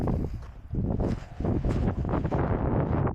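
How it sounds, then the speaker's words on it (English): Strong gusting wind buffets the microphone on the summit of Mount Baldy during a hike, a continuous close roar that swells in uneven bursts, with no talking. "It's pretty windy now."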